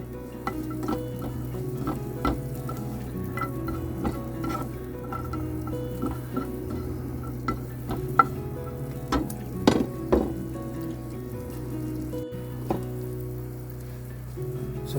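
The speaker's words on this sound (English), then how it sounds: "So I sauteed the oxeye daisy down in butter, got them right nice and soft and tender." Oxeye daisy sautéing in butter in a pan, a soft continuous sizzle under an underlying hum, broken by frequent sharp taps and scrapes of a utensil at an uneven pace, close by.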